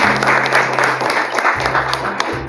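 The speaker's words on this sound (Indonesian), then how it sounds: "Kasih tepuk tangan dulu buat kalian." Audience applause in a training session, a steady burst of many hands clapping close by over a low sustained hum, with a voice briefly mixed in.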